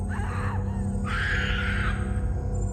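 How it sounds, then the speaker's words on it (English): A woman's scream used as a horror sound effect comes as a brief high cry and then a longer, sustained shriek, heard alone over a low rumbling background. "It was a woman's scream, and it was absolutely terrifying."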